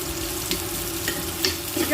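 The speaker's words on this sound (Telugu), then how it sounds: "ఇలాగ కొంచెం వేయించుకుందాం అండి. ఇవన్నీ కలిపి ఆనియన్స్ బాగా ఫ్రై అయిపోయి చూడండి ఈ విధంగా." Onions, curry leaves, mustard seeds, cumin and garlic fry in oil in a pan with a steady sizzle, broken by a few sharp stirring scrapes close by.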